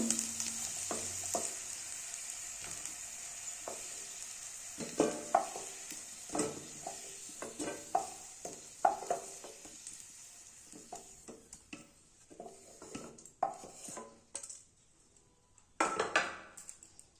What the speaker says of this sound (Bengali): আলুগুলো ভাজা প্রায় হয়ে গেছে